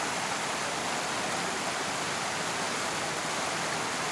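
A monsoon-season waterfall near Chiplun pours in a steady, even hiss of rushing water. The sound is constant and moderately soft, with no voices or breaks.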